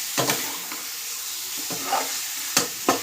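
Spices stirred around a hot frying pan under a steady sizzle, a spoon scraping the metal in several separate strokes, close and clear with no talking.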